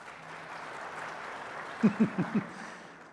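Audience at a talk gives soft, restrained applause, a faint steady patter with a few brief vocal bursts near the end.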